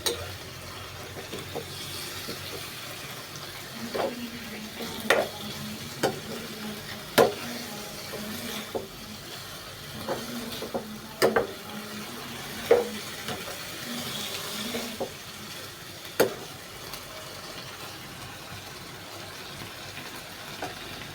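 A spicy stir-fry with bamboo shoots sizzles in a pan while a spatula stirs and scrapes it in sharp, irregular strokes over a quiet, steady frying hiss.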